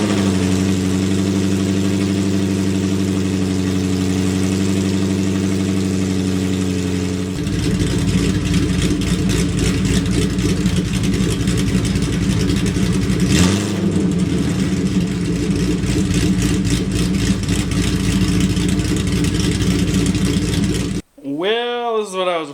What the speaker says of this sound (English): I just want to see what the open header sounds like